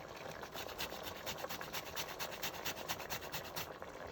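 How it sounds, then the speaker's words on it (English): Lemon zest being grated, heard as a quick, steady series of close, soft rasping strokes with no talking. "We have our lemon. So we first want to grate some zest into this baby."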